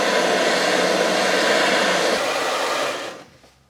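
A blowtorch heats a seized bolt on a crash-damaged Audi Quattro A3. It roars loud and steady close by for about three seconds, then cuts off and fades.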